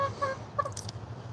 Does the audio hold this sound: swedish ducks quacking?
yes